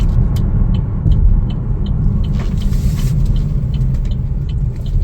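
Chevrolet Trailblazer RS accelerates on the road, a steady low engine and road rumble heard from inside the cabin, loud and continuous, with faint ticking above it.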